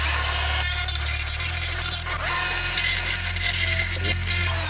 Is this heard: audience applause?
no